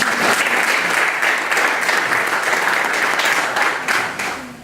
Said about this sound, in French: Je pensais qu'une jeune fille allait applaudir.